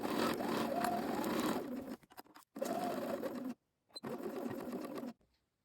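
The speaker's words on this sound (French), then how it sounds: "Vous allez coudre ici à 1 cm du bord." A sewing machine stitches a pocket seam 1 cm from the edge of a Sweety cardigan in three loud, steady runs, each separated by brief pauses.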